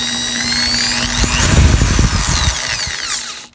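A variable-speed power drill whines steadily, its pitch sweeping as the trigger is pressed further, with a grinding rumble rising in the middle before the motor cuts out at the end.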